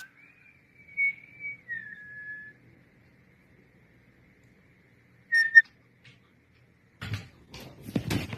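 A person whistles a short, rising-and-falling tune in a quiet room, followed later by a brief whistle and some knocking and shuffling sounds.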